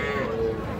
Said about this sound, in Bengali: এই যে সামনে দেখতেছেন যে আপনারা ছোট ছোট ষাঁড় ও বকনা বাছুর গরু।